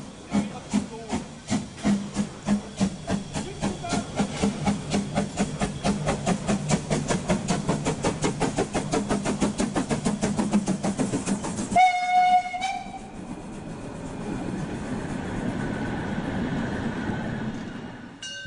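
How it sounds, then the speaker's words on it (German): Historic narrow-gauge steam freight train of the Molli railway, pulled by a 1951 LKM Babelsberg locomotive, departing: rapid rhythmic chuffing exhausts build steadily, then a sharp whistle blast rings out over hissing steam as the train rolls on. "Ausfahrt hat der historische Schmalspurgüterzug."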